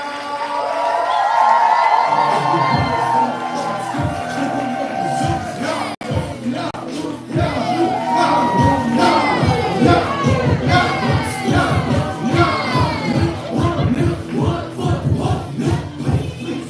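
A live spoken-word poetry audience at a Write About Now night claps in a steady rhythmic beat, building from dense cheering and whoops into sustained rhythmic clapping with scattered shouts throughout.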